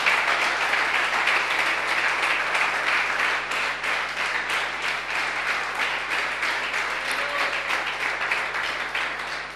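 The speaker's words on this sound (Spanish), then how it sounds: "Den un aplauso grande al Señor." A large crowd applauds continuously, a dense sustained clapping that slowly tapers toward the end.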